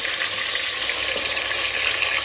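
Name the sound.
mutton frying in a pot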